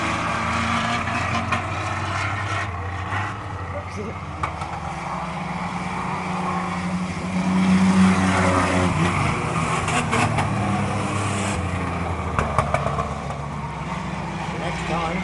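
Racing trucks in a qualifier race, engines droning and revving as they pass along the track, with a loud surge midway and a commentator speaking over the steady motor noise.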